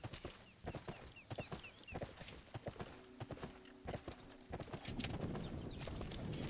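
Horse hooves clip-clop in a steady rhythm as a rider travels in the video game Sacred 2, the clear thuds repeating over game ambience and effects.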